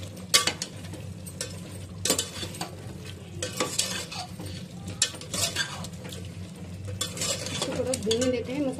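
Chicken korma spices being stirred and fried in a pan, with a steady sizzle and repeated scrapes and clinks of a spoon against the cookware, close and continuous with no talking.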